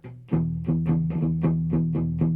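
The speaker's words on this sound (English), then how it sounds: "I'm using actually the heel of my hand to dampen the lower strings." Palm-muted Telecaster electric guitar chugs in a steady shuffling rhythm, the heel of the hand damping the lower strings, about eight thumping low notes, close and clear with no voices.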